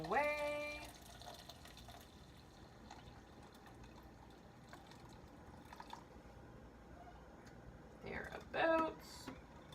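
Water pours steadily into a pumpkin spice simple syrup mixture, a faint, quiet trickle through most of the stretch, with a brief louder splash of filling near the end.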